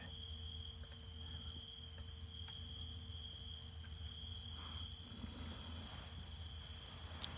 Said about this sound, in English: I was picking up the cricket sound on the